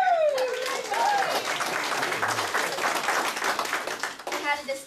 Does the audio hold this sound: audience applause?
yes